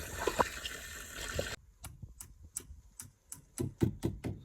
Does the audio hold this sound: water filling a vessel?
yes